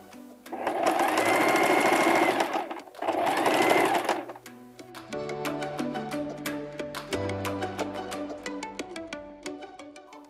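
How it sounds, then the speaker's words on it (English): A sewing machine runs a long straight stitch down the side of a fabric bag. It whirs loudly and steadily, pauses briefly, then settles into a slower run of distinct rhythmic needle strokes, with no talk over it. "I'm gonna run a straight stitch all the way down"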